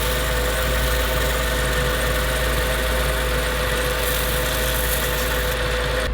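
A wrecked Mercedes E55 AMG idles while warming up, a loud, steady engine drone close by with a constant low hum and faint knocking vibration, heard alone and unbroken.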